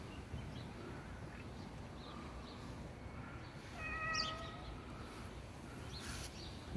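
A cat meows once in an outdoor park, a short harmonic call rising over steady background noise and distant ambience, moderately close but not loud.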